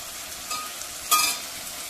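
Tomato and onion sautéing in a pan for misal, a soft steady sizzle with a brief louder crackle of stirring midway, faint and close.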